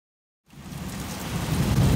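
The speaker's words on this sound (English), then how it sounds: "a terrible, mighty storm blew up that dark night and scared the disciples" A storm sound effect with rain and thunder starts abruptly after a brief silence, a dense hiss of rain with a deep rumble building steadily louder.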